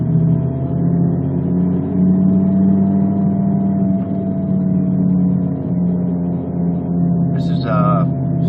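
A car engine holds second gear in a steady, loud, close drone with constant low harmonics, a brief higher whine near the end.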